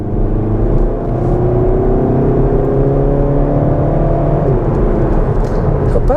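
A Volkswagen driving along with a steady engine whir and a thin rising squeal from the belts over a constant road rumble, with a voice talking over it.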